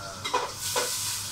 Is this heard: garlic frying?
yes